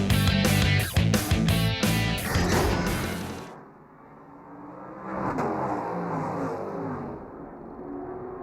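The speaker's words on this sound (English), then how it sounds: "as you ride on board the number 58 Brumos car" Onboard engine of the number 58 Brumos race car at Watkins Glen in the 2005 Rolex Sports Car Series roars loud and close with pulsing revs for about three seconds, then drops to a quieter, more distant drone.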